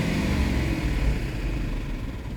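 The 5.7 engine of a 2004 Dodge Durango with overheating and leaking issues runs loud and close, a heavy low rumble that swells briefly and then eases off, with no talking.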